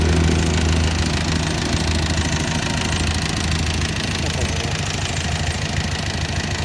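A two-axle Thai farm truck's engine runs loud and close with a rough, knocking diesel rumble that stays steady throughout, with voices talking over it.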